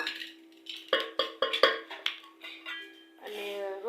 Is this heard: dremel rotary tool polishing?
no